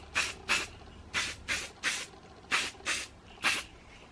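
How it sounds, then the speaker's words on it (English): Hair spritzed with a spray bottle: seven short, soft hissing pumps in quick uneven pairs, close and quiet, with no talking. "And then I usually just like spray the two top parts of my head."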